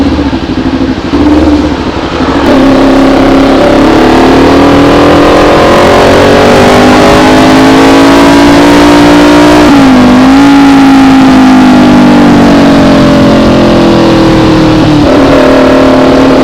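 A Kawasaki Ninja 400 motorcycle engine runs loud and close on the road, revving and holding a steady high drone that dips briefly and climbs again.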